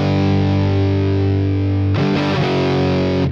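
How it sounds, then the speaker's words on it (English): Heavily distorted electric guitar sustains a loud power chord in a hard rock style, then adds a quick extra strum near the end, with no voice over it. "another thing that I hear them do live too is put an extra little strum in"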